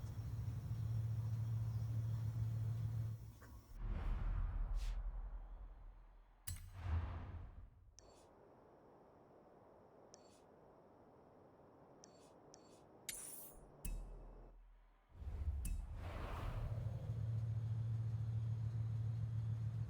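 A Bugatti Divo in Forza Horizon 5 drives with a steady engine rumble that drops away for a quiet stretch in the middle, then returns loud and close near the end.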